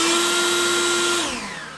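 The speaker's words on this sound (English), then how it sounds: "Here's an example of another blower that takes much longer to spool up." A battery-powered 40-volt leaf blower holds a loud steady whine, its pitch dropping slowly toward the end.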